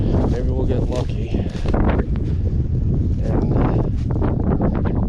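Strong wind gusts through winter woods during trail-camera scouting in Pennsylvania whitetail country, a constant broadband rush and buffeting on the microphone that sits close and loud under a man's speech.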